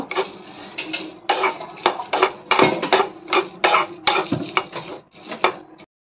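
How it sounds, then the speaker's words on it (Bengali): Dry whole spices, bay leaf, dried red chilli, coriander and cumin, being roasted in a dry pan while a utensil repeatedly scrapes and clatters against the metal in quick irregular strokes, close and fairly loud. "ওদিকে শুকনো মশলা তো ভাজা হচ্ছে"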